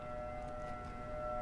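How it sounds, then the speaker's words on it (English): A weather alert siren sounds during a test outside federal court in Grand Rapids, a steady sustained wail holding its pitch throughout, moderately loud and continuous with no talking. "the weather alert siren test going off here"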